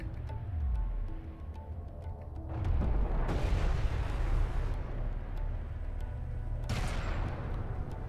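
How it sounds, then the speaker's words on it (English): A turret under attack in Deserts of Kharak: steady heavy gunfire and artillery booms go on throughout, swelling into louder bursts of blasts midway and again near the end, with no voices over the combat. "One of our turrets is taking fire."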